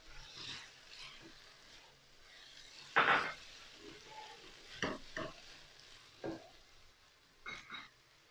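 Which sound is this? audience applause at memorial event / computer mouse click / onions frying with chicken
onions frying with chicken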